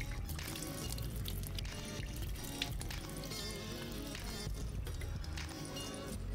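Water runs steadily from a tap in a bathroom during face washing, a continuous splashing pour that fills the whole stretch without a break and with no voices.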